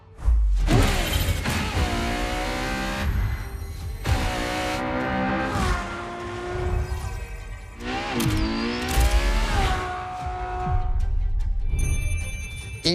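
Ferrari LaFerrari hybrid supercar in The Crew Motorfest, its engine revving hard through rising and falling gear sweeps with sharp upshifts, loud and close, and no talking over it.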